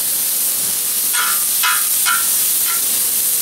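Soy sauce hits hot pork lo mein in a discada cowboy wok, a loud continuous sizzle and hiss punctuated by several sharp metallic scrapes or clanks of the utensil against the wok.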